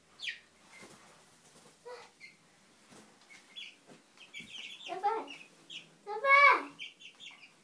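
Backyard chickens clucking close by, short irregular bursts of clucks and squawks, with a child and an adult talking over them.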